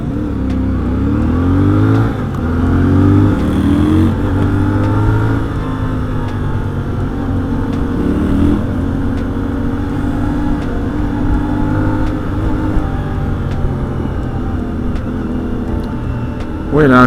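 A CF Moto Ibex 450 motorcycle engine revs through short accelerations, a loud, steady droning whine rising in pitch over and over with gear changes, heard close up for the whole stretch.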